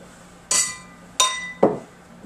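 Beer glasses clink together three times in quick succession, bright and close, in a quiet room with no talking.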